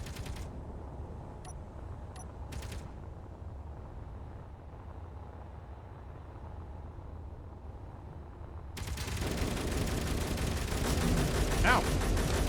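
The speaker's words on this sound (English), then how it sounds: "I just heard what sounded like assault cannons." Heavy assault cannon fire from enemies in the video game Underground Alone rumbles as dense, continuous gunfire and explosions, growing louder toward the end, with a few sharp clicks early on.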